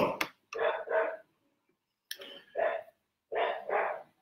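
A dog barks in three separate paired bursts, each a quick double bark, fairly close and alone with no talk, with short silences between the pairs.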